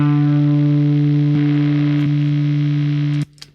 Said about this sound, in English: So when I have the distortion on, you'll just hear this sort of sustain